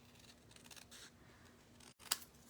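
Scissors snip through paper while a Christmas tag sentiment is cut out, faint rustling handling followed by one sharp, close cut near the end, with no talking.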